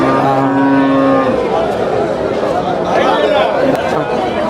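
Cattle low loudly at the Thiyagadurgam livestock market, where cows and goats are traded. A drawn-out moo comes first, then a busy hubbub of nearby people talking over the market noise.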